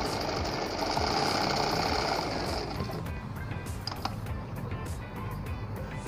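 A Janome 5002 sewing machine stitches at thread tension 1.5, giving a steady, continuous mechanical whir with a fast rhythmic knock. It runs alone at moderate loudness and eases slightly partway through.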